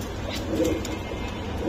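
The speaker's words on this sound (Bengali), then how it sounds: "লক্ষ্মী কবুতর ভাই দেখেন" Soft, low cooing of a female pigeon held up for display by a seller, repeating in a steady murmur close by with no talk over it.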